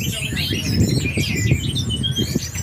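Songbirds at a bird-singing contest give bright, overlapping chirps and trills from many birds at once. Crowd noise and low chatter sit beneath them.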